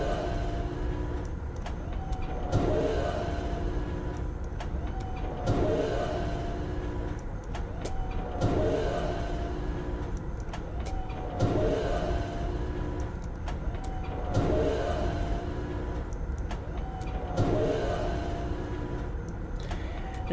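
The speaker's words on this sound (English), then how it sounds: "It made a kind of a air compressor noise." An air compressor hums continuously in the Myst video game, with a mechanical thump and hiss repeating about every three seconds in a steady cycle, moderately loud, with no voices.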